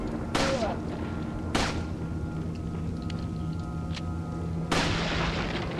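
Gunfire in Resident Evil 4, with three loud, sharp shots spaced over several seconds above a steady hum of game background sound.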